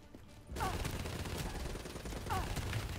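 Rapid gunfire bursts from the Black Ops 3 campaign crackle loudly after a brief quiet start, with a second burst later, while a player talks over the shooting.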